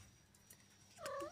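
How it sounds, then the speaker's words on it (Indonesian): A faint kitten meow rises near the end over a quiet background hiss, short and plaintive. "Dia terus mau berusaha nyusu sahabat-sahabat kucing, tapi Nilanya gak mau dia."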